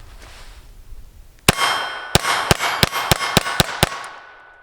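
Sig P322 pistol fires Winchester 333 ammunition outdoors, eight sharp, loud reports in quick succession with short uneven gaps, each shot cracking and ringing briefly before the next.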